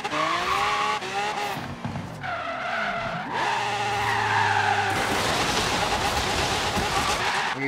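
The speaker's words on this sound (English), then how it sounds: "I'm going to slow down and pull the e-brake and see what happens" Tires skidding and squealing in Forza Horizon 3 as an old truck slides off-road after the e-brake is pulled, with revving engine and sliding noise throughout, loud and continuous.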